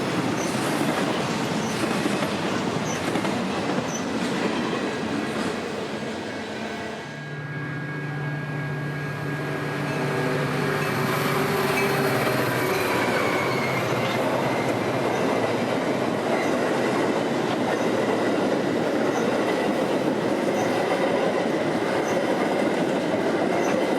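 A freight train hauled by diesels, including an SD70 Ace and a rebuilt AC6000, rolls past loudly and steadily, with continuous wheel rumble, clatter and occasional squeal throughout.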